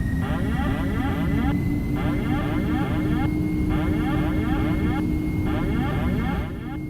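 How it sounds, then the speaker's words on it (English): A FlightFactor Boeing 767-300 freighter (767-34AF) in X-Plane 12 spools its jet engines to takeoff thrust, giving a loud, steady, continuous roar that holds for the whole stretch, with a faint rhythmic pulsing layered above it. "takeoff thrust just to get moving."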